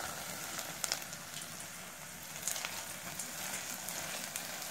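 Onions frying in a pan give a steady, soft sizzle and crackle with a few brief louder pops, close and even throughout, with no voices.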